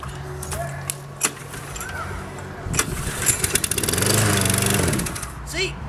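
A small gasoline lawn mower engine, one being offered for sale, sputters and catches after a few sharp knocks, then runs and revs in a loud, rough drone up close, with some voices nearby.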